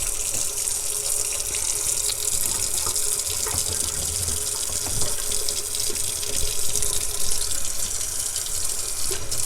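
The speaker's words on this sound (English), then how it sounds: "So right now I'm using warm water." Warm water runs steadily from a tap over a hair closure being washed at a sink, a loud continuous splashing hiss that fills the whole stretch with faint shifting spatter and no talk.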